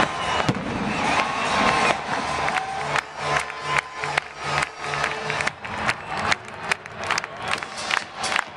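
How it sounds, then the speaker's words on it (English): Fireworks burst repeatedly at an event in sharp, loud cracks and booms, one after another, over a crowd that cheers and roars throughout. "let's finish with one more highlight and some fireworks"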